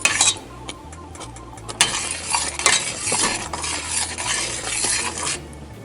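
A spoon stirs and scrapes around a pot of bubbling, boiling peach jam, with continuous hissing and popping underneath, close and steady.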